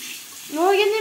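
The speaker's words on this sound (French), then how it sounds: "Je lui mets de l'eau." Tap water begins running into a container partway through, a bright gurgling rush swelling up after a moment of quiet and staying steady and close.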